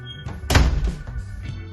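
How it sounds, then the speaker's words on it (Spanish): A door pulled shut too abruptly and hard by a newly installed Yale hydraulic door closer lands with one loud, heavy thud. A brief low rumble trails after it. "ahora mismo está cerrando la puerta, para mi gusto, demasiado brusco y fuerte"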